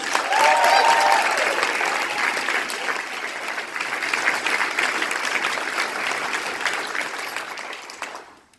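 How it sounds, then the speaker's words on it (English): Sustained audience applause at a pet event's veterinarian panel, a thick wash of clapping that stays strong for several seconds before tapering off and stopping. "let's give a big round of applause to Brooke and the veterinarians."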